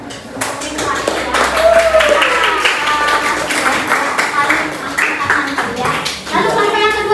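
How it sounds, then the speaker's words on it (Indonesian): A classroom group claps for the Rifati team, quick scattered hand claps mixed with children's voices and chatter throughout, fairly close and lively. "Beri tepuk tangan untuk Rifati ya"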